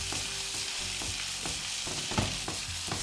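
Meatballs fry and sizzle in a single layer in a pan while being stirred, giving a steady close crackle broken by repeated scraping and clinking strokes of the stirring utensil.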